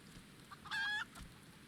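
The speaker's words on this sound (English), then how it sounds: "You are a fine bird," A single short, bright clucking call from a chocobo-like bird in the video game Final Fantasy XIV rises briefly over a faint, quiet background.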